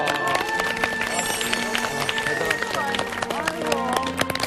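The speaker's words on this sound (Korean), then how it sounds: "박수 한번" A studio audience on a Korean TV talk show breaking into applause, a busy patter of clapping mixed with exclamations and crowd voices.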